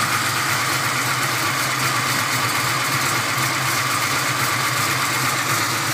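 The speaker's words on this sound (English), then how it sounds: "Idling by itself around 900, 850. And you'll hear mostly pistons and rockers here." An engine idles steadily at about 850–900 rpm, with piston and rocker clatter forming a continuous, even mechanical drone at moderate level, without talk.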